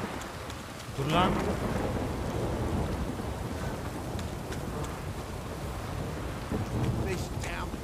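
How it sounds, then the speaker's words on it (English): Steady heavy rain pours in the Witcher 3 game world while thunder rumbles, and brief voiced game dialogue rises over the downpour near the start and end. "This downpour's a bastard, it is."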